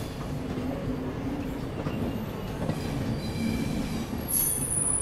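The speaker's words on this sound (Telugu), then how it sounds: "భవానీపట్నం నుండి విశాఖపట్నం జంక్షన్ రైల్వే స్టేషన్ చేసుకునే ఎక్స్ప్రెస్ ఇప్పుడిప్పుడే ప్లాట్ఫామ్ 4లోకి ఎంటర్ అయ్యింది" An express train from Bhawanipatna to Visakhapatnam pulls into platform 4 at Visakhapatnam Junction, a steady rolling rumble of railcars with squealing wheels and a sharp high screech near the end, no talking.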